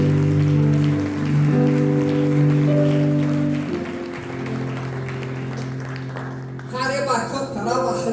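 A church congregation claps during a worship service, the applause washing over sustained keyboard chords before a voice starts speaking at the end.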